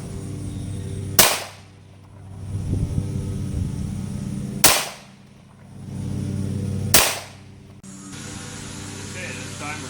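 .22 target pistol fired at a 10-yard range, three sharp, loud cracks spaced a few seconds apart over steady outdoor background noise.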